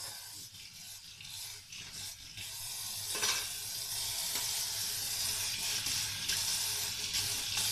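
Tap water runs steadily while dishes are washed by hand, a continuous close hiss that swells slightly halfway through, with faint clinks and rubbing and no talking.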